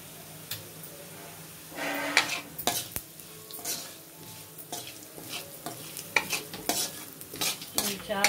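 Ajwain rice frying in a pan, a spoon scraping and stirring in uneven bursts over a soft sizzle, close by with occasional light clinks of utensils against the pan.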